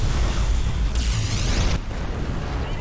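A mech blows up in the Xbox game MechAssault, a heavy booming blast with a crackling burst in the middle, loud and rumbling throughout with no talk over it.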